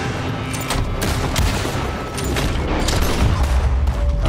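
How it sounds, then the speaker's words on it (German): Dense video-game gunfire in Red Dead Redemption 2 during a shootout: continuous loud rattling shots and booms overlapping into a sustained fusillade, with heavy low rumble building toward the end and no talk over it. "Da kommt doch die ganze Zeit Schüsse runter."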